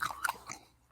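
Crunchy, sweet seed snack of coconut, pumpkin seeds, quinoa and sunflower seeds chewed close to the mic, a few quick crisp crunches in the first half that fade into quiet.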